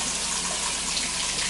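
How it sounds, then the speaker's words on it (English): Bathroom faucet running at strong pressure, a steady, close, full rush of water that never lets up. "Check the water pressure."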